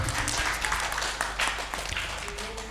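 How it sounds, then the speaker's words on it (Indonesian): Audience applause at a gathering fills the room with dense, steady clapping that holds loud throughout, with a faint bit of background voices mixed in. "Tepuk tangan untuk kita semua."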